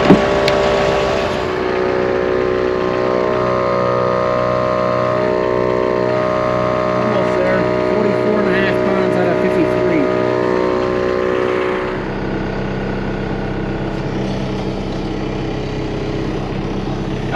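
A snow plow vehicle's engine runs steadily nearby with a loud, even droning hum that shifts to a lower, smoother tone partway through.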